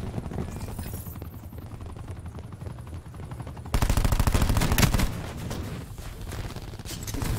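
Rapid SMG gunfire from a PC first-person shooter game, fast automatic bursts that jump louder partway through, with game sounds layered beneath.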